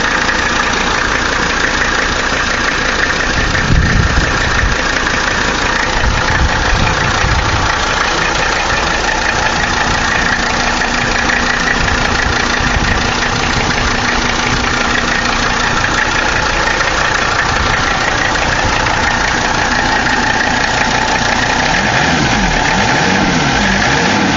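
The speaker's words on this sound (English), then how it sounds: "Here's the engine running." A 1981 Mercedes 300CD turbo diesel coupe idling under the open hood, a steady, loud diesel clatter with an even mechanical knock running unbroken for the whole stretch.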